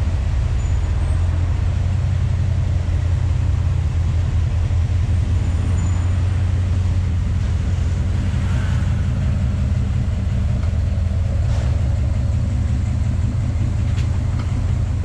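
A Ram Classic pickup's engine rumbles low and heavy at close range on a dirt test area. The deep, continuous drone holds fairly steady throughout, with no voices.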